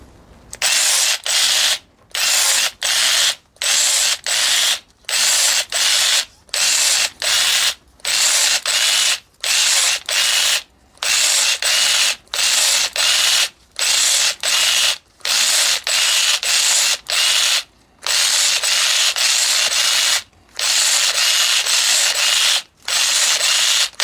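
A Parkside PGSA 14 A1 cordless pruner works through a 6 mm garden branch, its motor whirring in loud repeated bursts separated by brief silences, many short cycles in steady succession.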